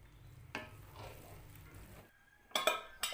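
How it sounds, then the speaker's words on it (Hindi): Rice stirred in a pot after ghee is added, a faint spoon scraping and soft sizzle followed by a couple of sharp metallic clinks near the end. "हम हल्का सा हिलाएंगे"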